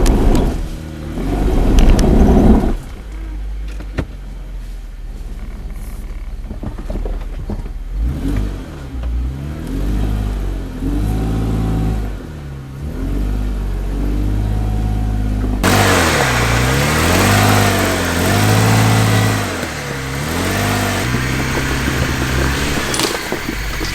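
An off-road vehicle's engine revs and labors while backing up on a rocky trail on Glade Top Trail in the Missouri Ozarks, with rising and falling surges through the clip that grow louder and rougher near the end.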